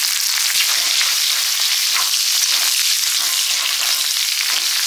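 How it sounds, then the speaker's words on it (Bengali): Chopped onion frying in mustard oil with dried red chilli, panch phoron and bay leaf for a taro-greens dish, a loud steady sizzle with crackling pops, close and continuous with no talk. "ফোড়ন আর পেঁয়াজটা ভাজা হয়ে গেছে"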